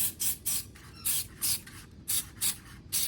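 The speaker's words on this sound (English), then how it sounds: "you're just going to spray them with the spray" Red edible color spray hisses from a can onto a pie in about eight short, sharp, evenly spaced bursts, close and clear with nothing else over it.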